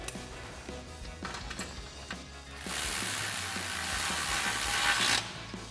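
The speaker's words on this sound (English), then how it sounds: "We'll go ahead and tighten that down using our 10mm socket on our ratchet." A hand ratchet with a 10mm socket tightens a bracket bolt on a Jeep Wrangler JK during a suspension lift install, rapid close clicking followed by a steadier, brighter rasping run, with no talk.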